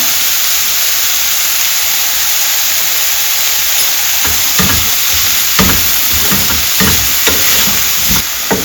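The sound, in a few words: carrots and green peas sautéing in a pan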